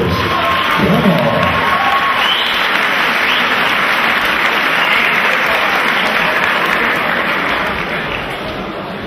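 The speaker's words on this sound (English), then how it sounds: "let's have a massive round of applause for both warriors" Big crowd at a boxing event applauding and cheering both fighters, dense sustained clapping with shouts that holds steady for most of the time and eases slightly near the end.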